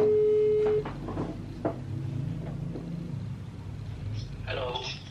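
A phone call's tone sounds briefly at the start, then cuts off into a line hum with voices talking and small clicks.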